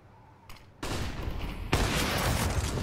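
Gunfire during a professional CS:GO match between Heroic and POGGERZ on the Nuke map, with shots rising in two abrupt steps into a sustained, loud barrage.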